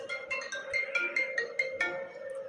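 A phone ringtone plays a bright, repeating electronic melody in short steady notes, fairly close and clear, with no talking over it.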